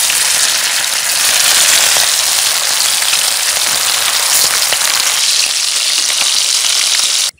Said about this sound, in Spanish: Ya está caliente nuestro aceite. Ahí vamos a freír todas nuestras truchas.